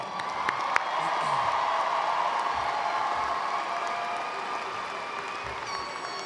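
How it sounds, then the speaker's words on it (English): Graduates at a university spring commencement ceremony applaud, a broad steady wash of clapping with some cheering and whoops from a large crowd, fairly distant and even. "Congratulations to all the graduates today. Give yourselves a round of applause."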